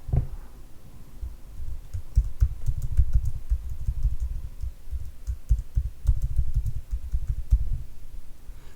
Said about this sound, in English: So you just want to type in a password.